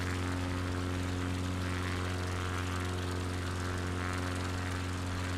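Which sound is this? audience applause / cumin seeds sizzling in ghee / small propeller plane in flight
small propeller plane in flight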